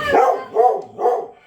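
A puppy gives three quick, high, yappy barks in close succession, loud and near, with no talk over them.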